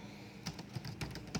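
Keys clatter on a computer keyboard as a command is typed on an Ubuntu server, a quick run of close, crisp taps at an uneven rhythm.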